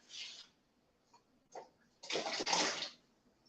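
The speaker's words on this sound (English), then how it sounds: "I'm going to go and put my sweet potato in our hot water." A sweet potato dropped into a pot of hot water in a home kitchen, giving a quick splash and watery slosh after a few faint earlier clinks.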